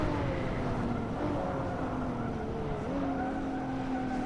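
A Ford Mustang and a BMW Z4 racing in a car racing video game: steady, loud engine roar with rising and falling revs and faint tire noise, continuous throughout.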